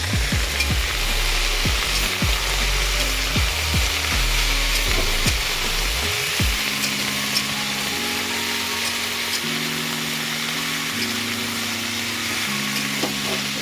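A vegetarian curry cooks in a pan with a steady, close frying sizzle throughout, broken by a few knocks and clatters in the first half, with no talking.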